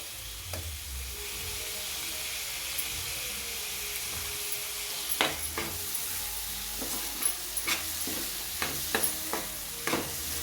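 Tomato pieces and cauliflower frying in a pan for a cauliflower-tomato curry, a steady sizzle throughout with a series of sharp stirring scrapes and clinks in the second half, no voices.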